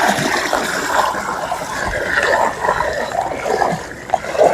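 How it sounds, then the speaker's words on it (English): Dissolved Robelle calcium hardness increaser solution poured slowly along the edge of a pool, a continuous soft trickling and splashing of liquid into water throughout. "I pour it in along the pool edge, and I'm doing it slowly"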